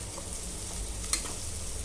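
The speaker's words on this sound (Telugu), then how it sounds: "ఇప్పుడు ఇలా ఫ్రై అయ్యాకైతే పసుపు వేసుకొని ఫ్రై చేసుకుంటున్నా" Turmeric frying in oil for a tempering gives a steady, close sizzle and crackle, with one faint clink partway through and no speech.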